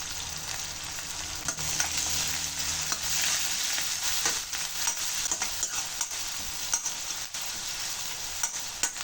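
Onions and curry leaves sizzle and crackle in hot oil, a dense steady frying hiss close up, broken by occasional stirring scrapes and clinks.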